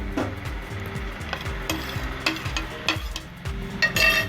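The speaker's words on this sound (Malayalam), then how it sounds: "വെള്ളം തിളച്ച് വന്നിട്ട് അതിലേക്ക് നമുക്ക് നമ്മുടെ മാഗി അങ്ങ് ഇട്ട് കൊടുക്കാം" Maggi noodles are stirred into boiling water in a pot, giving a steady bubbling churn with repeated scraping stir strokes and a few sharper clinks toward the end.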